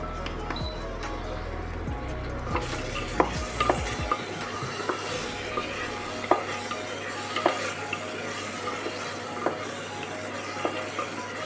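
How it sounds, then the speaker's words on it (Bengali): Soaked peas stir-fried in a pan for a meat-fat ghugni: a spatula scrapes and taps in a steady, repeated rhythm over a soft sizzle, close and fairly quiet, with a low hum at the start. "এই মটরটা পুরোটাই আমি দিয়ে দেব দিয়ে এর সাথে আমি কিন্তু কষিয়ে নেব"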